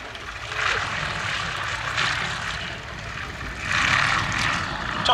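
A Comper Swift light aircraft with a 90 hp Pobjoy radial piston engine drones steadily nearby, its propeller hum swelling slightly at times under faint background voices.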